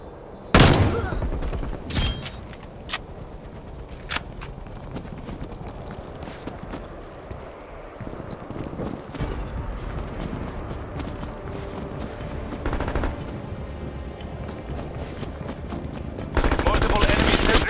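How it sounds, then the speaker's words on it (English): Enemy sentry turrets fire in Call of Duty Cold War: sharp bursts of gunfire crack out near the start, then a dense clatter and rumble of battle noise continues, with a loud burst returning at the end. "Multiple enemy sentry turrets active."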